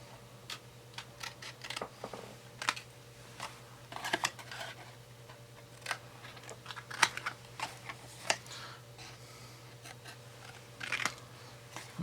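Corners being snipped off diffuser pieces with scissors for a DIY external flash diffuser, a string of short, crisp cuts and clicks, close and fairly quiet, with no talking.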